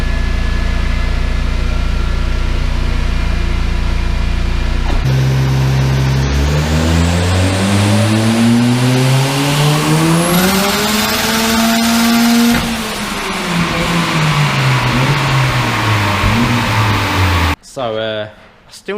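A diesel van strapped to a rolling road dyno in third gear, engine idling, then revving up in a long climbing pull before dropping back down, loud and close, with a voice speaking briefly.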